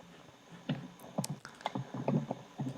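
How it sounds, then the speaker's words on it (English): Keyboard typing on a computer during an online call, a run of light, irregular clicks and clacks in short bursts, fairly close and moderately loud with no talk over it. "I can hear you typing."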